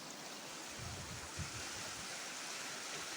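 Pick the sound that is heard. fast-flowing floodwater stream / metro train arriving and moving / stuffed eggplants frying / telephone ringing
fast-flowing floodwater stream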